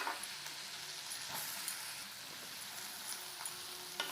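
Onion going into hot butter with garlic and ginger in a pan, frying with a steady, close crackling sizzle that runs the whole time with no talk, for a hot and sour vegetable soup.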